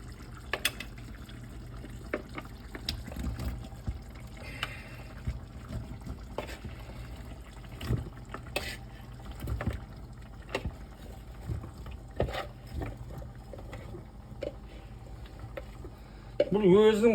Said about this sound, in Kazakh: Бүлкілдеп қайнап жатыр.